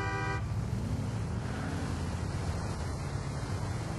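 A light street-racing car accelerates in the video game GTA IV, giving a loud, steady engine roar that holds for the whole stretch with no break.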